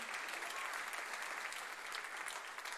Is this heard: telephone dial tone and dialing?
no